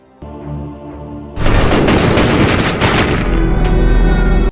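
Police open fire in a film scene, with a sudden loud burst of rapid gunshots that keeps rattling for several seconds over a low rumbling score.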